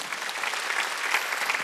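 Worshippers at a Wednesday church service applaud in a steady, full-room wave of clapping, dense and continuous with small surges throughout.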